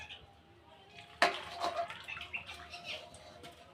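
Soaked corn and water poured from one bowl into another, a sudden splash followed by irregular sloshing and trickling pours, close and fairly soft in a quiet kitchen.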